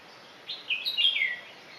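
A single bird sings a brief, high, clear warbling phrase that rises out of quiet background hiss and fades within about a second, moderately near and alone.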